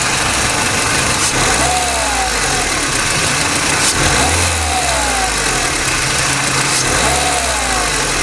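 A car engine with a coil-on-plug ignition system idles steadily, then revs up briefly a few times before settling back, heard close and continuous with no talking.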